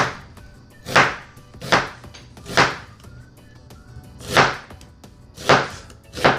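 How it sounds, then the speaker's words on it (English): A knife rough-chops an onion on a cutting board while preparing a Beijing beef stir fry: six loud, crisp chops land about a second apart, close up, with no talking. "Just gonna do a rough chop. Probably only gonna use half of this onion,"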